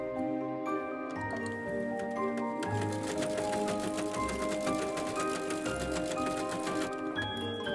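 Embroidery machine stitching a fabric zipper pouch in the hoop, a fast steady run of rapid ticking needle strokes over a tonal motor hum, close and continuous without talking.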